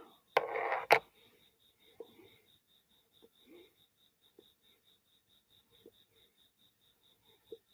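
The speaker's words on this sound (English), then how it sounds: "And I hear a daggone cricket." A lone cricket gives a steady series of thin, evenly spaced chirps, faint and constant, with a loud knock or two and scattered small taps at the start.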